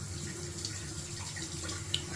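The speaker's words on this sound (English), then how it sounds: "Shaving in cold water." Tap water runs steadily into a sink for wet shaving with a safety razor, a soft even hiss at low level with a faint clink near the end and no talking.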